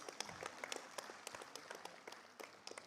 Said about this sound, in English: Please support with a round of applause,